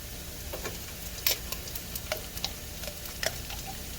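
Sun-dried tomatoes added to a pan of butter with garlic and shallots, giving a soft steady sizzle broken by sharp spatula clicks and scrapes as they are stirred, close and fairly quiet, no talking.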